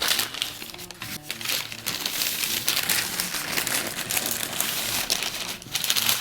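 Butcher's paper is folded and wrapped tightly around a smoked brisket, with steady close crinkling and rustling bursts throughout and no speech.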